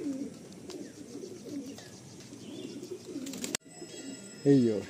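Pigeons in a home loft at Barasat, soft repeated cooing murmurs close by, steady and low, ending with a brief louder call, with faint voices in the background.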